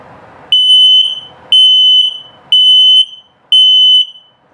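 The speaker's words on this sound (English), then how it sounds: "And low battery alert." Four loud, high-pitched electronic low-battery beeps from an LP and carbon monoxide detector in a 2022 Flagstaff Super Lite 27FBIK camper, evenly spaced about a second apart, each held briefly over faint background noise.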